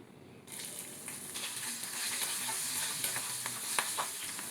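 Ginger and green chillies dropped into hot oil with cumin, bay leaf, curry leaves and asafoetida for a dhaba-style kaju masala tempering, a sudden steady sizzle rising after a quiet start, with stirring scrapes throughout.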